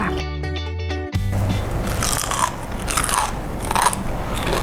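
Loud, close crunching bites into crispy fried pork skin, a sharp snap followed by steady crackling chews that continue throughout with no talking.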